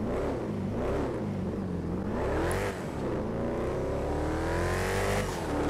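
A car engine in GTA Online revs repeatedly, its pitch climbing and falling in smooth sweeps as the throttle rises and eases off, loud and close with no talk over it.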